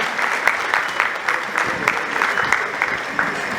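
Audience applause at an award felicitation ceremony for a singer, a steady wash of many hands clapping with scattered sharper claps, moderately loud and continuous throughout.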